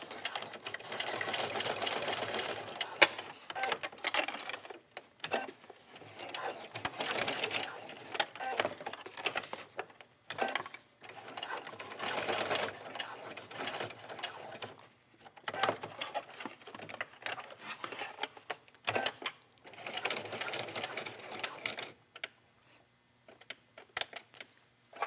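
A home sewing machine stitches a small square to attach a clip onto a dog leash, running in steady bursts that stop and start throughout, with a fairly close, whirring motor and rapid needle patter.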